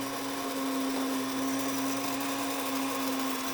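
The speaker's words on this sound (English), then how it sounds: "You'll hear it start to spin down and wind up here a little bit" A steady, loud grain mill electric motor whine spinning down after grinding, a constant tonal drone close by with no voices.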